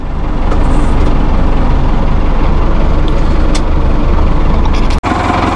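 A 2001 New Holland TL100 utility tractor engine idles, a loud, close, steady diesel rumble with a brief dropout near the end, no talking.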